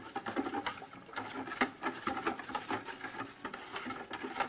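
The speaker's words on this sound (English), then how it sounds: "You can kind of hear the salt granules are still not quite dissolved." Salt granules whisked through turkey brine give a close, steady gritty patter and scraping, rhythmic swishes repeating without pause, with no talk.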